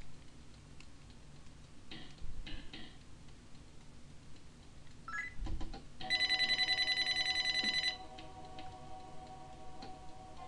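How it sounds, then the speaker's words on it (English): A telephone rings in the Shin Megami Tensei video game, a bright trilling electronic ring lasting about two seconds in the middle, set among soft ticking and quiet background sounds. "if you hear the phone,"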